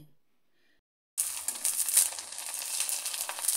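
Papad made from leftover rice starch water dropped into hot oil: after a second of silence, a sudden loud sizzle breaks out and keeps crackling steadily, close up, with no talking.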